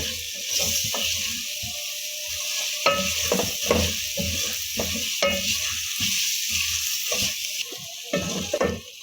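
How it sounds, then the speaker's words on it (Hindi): Green peas fry in masala over a medium flame for an aloo matar gajar dish, with a steady broad sizzle and repeated scraping stir strokes of a spoon against the pan throughout. "मसाले के अंदर हमने मटरों को तकरीबन 4 से 5 मिनट तक भून लेना है।"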